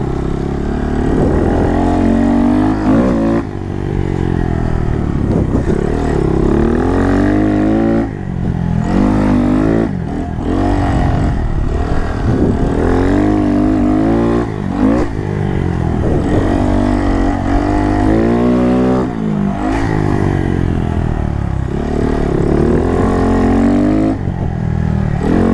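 A Honda Monkey motorcycle fitted with DNM rear shocks rides along a street, its small engine droning up and down in pitch through repeated revs and gear changes, loud and close throughout.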